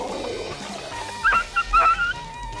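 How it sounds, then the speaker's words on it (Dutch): Cartoon dogs on the trail of two intruders in a Smurfs episode give a few short whimpering yips and barks in the middle of the clip, over a busy music and effects background. "De honden zijn die twee indringers op het spoor."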